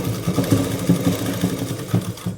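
A sewing machine stitching the folded hem edge of a saree petticoat, giving a close, rhythmic mechanical whirr with regular pulsing thumps.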